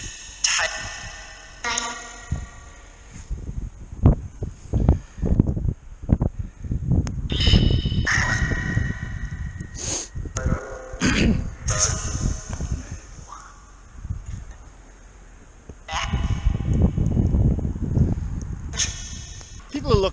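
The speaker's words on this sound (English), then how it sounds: "Hopefully the wind isn't destroying the audio." Gusts of outdoor wind buffet the microphone on a clifftop by a road at night, producing loud irregular rumbling bursts and crackles that come and go in waves, with talking heard between them.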